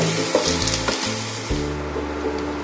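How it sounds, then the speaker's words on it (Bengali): Amudi fish frying in a pan, a continuous close sizzle with occasional stirring scrapes, overlaid by low sustained melodic tones. "এটা আমি নাড়াচাড়া করে কিছুক্ষণ ভাজা ভাজা করার পর আমি ঢাকা দিয়ে দেবো সেদ্ধ হওয়ার জন্য"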